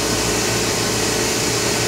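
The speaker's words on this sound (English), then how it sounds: "Shows turbo running" A turbo pump on an Oxford Plasmalab 133 ICP 380 plasma etch system runs with a steady, even whine and broadband hiss, a constant close machine drone with no change in level.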